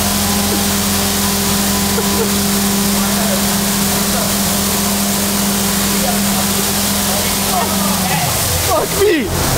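Heavy water blasting steadily over a person at a car wash for a bet, a loud continuous rushing spray with a low engine-like hum underneath, shouting voices over it and a sudden splashy burst near the end.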